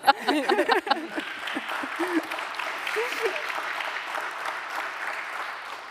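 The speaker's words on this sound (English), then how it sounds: "clap for everybody" A group gives a sustained round of applause after a panel session on tech and society, starting with brief overlapping voices and then settling into a steady wash of clapping that continues to the end.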